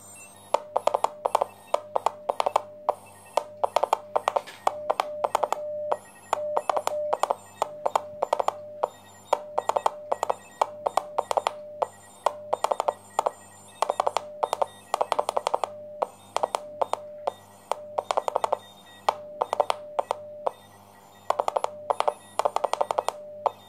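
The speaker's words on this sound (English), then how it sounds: "I'm going to use my KX2, the receiver of the KX2, just to hear myself" Morse code CW transmission heard through an Elecraft KX2 receiver on a half-wave end-fed antenna: a steady, rapid stream of keyed single-tone beeps in dot-and-dash rhythm, moderately loud over a low hum, with no talking.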